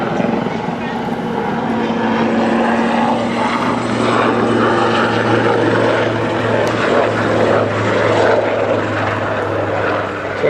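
An Army Air Corps helicopter flies an aerobatic display at an air show, its steady rotor and engine drone loud and sustained throughout, with a commentator's voice over the public address.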